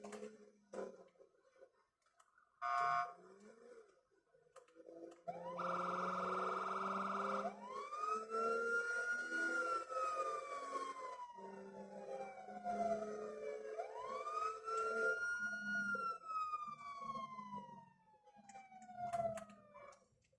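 A video game police siren wails in long rising and falling sweeps, steady and fairly loud, with clicks and background noise between cycles and no voices.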